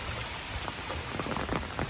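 Steady heavy rain falls hard on Madduvil village, a dense hiss with scattered drops pattering on a surface throughout the short stretch, as floodwater fills the channels.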